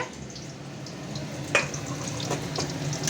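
A pan of food fries on a home stove, a soft steady sizzle with occasional clinks of a spoon stirring, close and fairly quiet.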